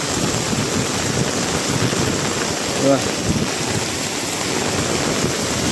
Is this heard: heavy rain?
yes